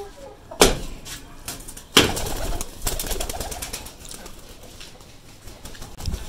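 Pigeons are released to fly, giving sharp wing-flap bursts and clatters with soft movement noise between them. There is no speech.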